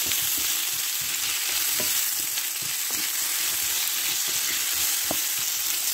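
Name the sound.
frying apple and onion in a pan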